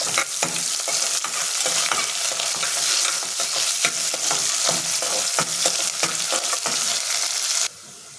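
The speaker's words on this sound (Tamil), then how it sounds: "நல்லா செவக்கிற அளவுக்கு வதங்கட்டும்" Steady, loud sizzling and crackling of onions frying in a pan, with occasional stirring scrapes, running continuously and dropping quieter near the end.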